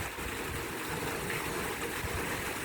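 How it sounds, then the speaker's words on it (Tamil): Water pouring steadily into a sump on a farm with an irrigated grove, a continuous broad rushing and splashing like a stream, close and fairly loud, with no talk. "சப்பில் எந்த அளவுக்கு தண்ணி விழுகுதுன்னு பாருங்கள்."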